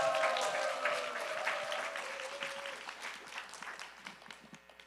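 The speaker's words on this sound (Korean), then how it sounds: "박수로 모시겠습니다" Church gathering audience applauds to welcome a speaker, a moderate wave of clapping that thins out into scattered, distinct claps as it fades.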